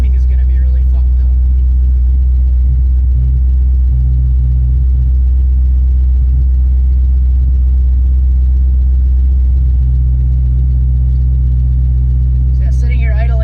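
A twin turbo Nissan 350Z engine idles steadily at -2 degrees of timing with a deep, continuous low rumble and a slight uneven lope throughout, close and loud, with no talking.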